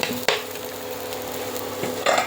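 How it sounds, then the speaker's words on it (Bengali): Rice grains fry in hot ghee with mung dal as a spoon stirs through the pot, a steady soft sizzle broken by a few sharp scrapes against the metal. "ঘি দিয়ে ভালো করে চালগুলো বাজে করে নিচ্ছি"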